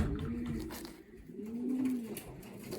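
Racing pigeons cooing close by, two low rolling coos separated by a short pause, with soft rustling and no talking.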